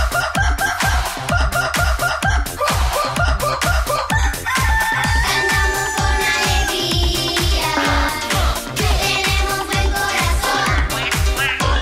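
A rooster crows repeatedly in a children's farm song, loud cock-a-doodle-doo calls and clucks riding over a bouncy rhythmic backing with a steady thumping beat.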